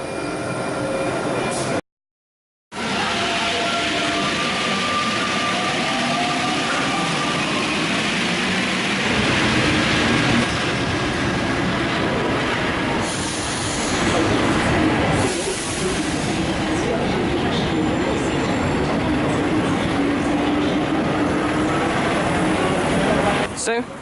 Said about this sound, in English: We are off our TGV train now and back at Paris Gare de l'Est.